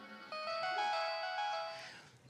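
A mobile phone ringing in a quiet room in Mustang, Nepal, a bright electronic melodic ringtone of stepped tones for about two seconds, close and clear, fading at the end.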